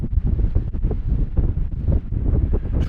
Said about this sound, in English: It's really windy now, but still a lovely day.